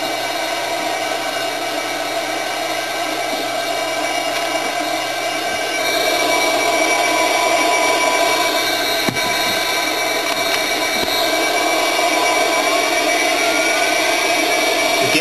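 F-16 jet engine with the throttle brought back to idle descent, giving a loud continuous turbine whine and roar with steady high tones that shift slightly partway through, and no talking.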